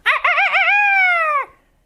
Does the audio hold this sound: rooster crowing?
yes